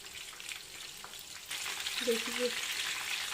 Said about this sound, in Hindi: चिकन लॉलीपॉप फ्राई हो चुके हैं अच्छे से